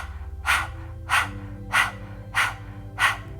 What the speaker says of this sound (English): panting like a hot dog